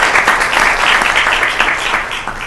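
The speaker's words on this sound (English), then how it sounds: "just give you a round of applause for your dedication in the city of Santa Ana" Applause at a Santa Ana city council meeting, a loud, dense patter of many people clapping steadily in the chamber with no talk over it.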